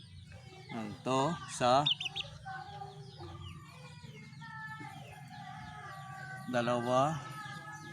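A pet chick being fed black pepper gives several bursts of clucking and chirping, close to the microphone, over steady low background hum, while a person talks in between.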